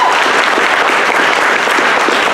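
An audience at an evening panel event applauds the panelists with loud, dense, sustained clapping that fills the room without a break.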